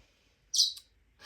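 A pet bird gives one short, bright chirp close by in a quiet room, followed by a faint second note.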